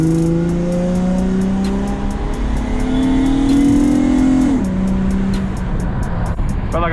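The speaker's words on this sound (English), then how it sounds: "My exhaust is so much louder." Acura TL SH-AWD fitted with a PCD exhaust, loud and raspy as the engine revs up in rising pitch, holds, then drops sharply before a brief clatter at the end, close and dominant.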